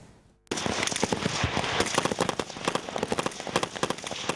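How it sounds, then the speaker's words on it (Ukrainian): Rapid bursts of live-ammunition gunfire at military shooting drills crack in dense, overlapping volleys after a brief quiet start, loud and sustained like several rifles firing at once. "Це не справжнє поле бою, хоч і стріляють бойовими."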